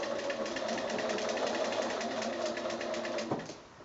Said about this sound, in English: when you're sewing with the machine